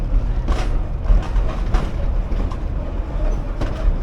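Virginia & Truckee Railroad passenger train in the Nevada mountains, heard from on board as a steady loud rumble with rhythmic clicking of wheels over rail joints.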